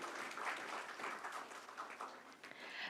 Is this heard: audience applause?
yes